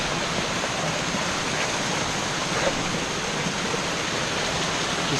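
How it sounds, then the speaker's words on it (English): A waterfall gives a steady, loud, broadband rush of falling water, constant and close throughout, with nothing else standing out. "So we're here at the waterfall."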